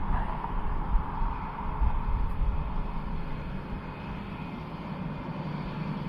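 A British Airways airliner at Dublin Airport roars with a broad, loud, sustained engine rumble, steady across the whole stretch and close by.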